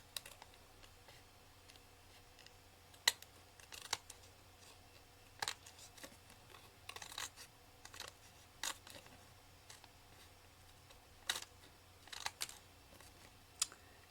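Scissors trimming card paper around a circle, making faint, sparse snips and clicks scattered irregularly through near silence.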